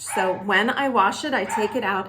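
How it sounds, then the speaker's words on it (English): A dog barks indoors at home, short yips and bow-wows mixed in beneath a person's continuous close talking. "excuse the dog barking"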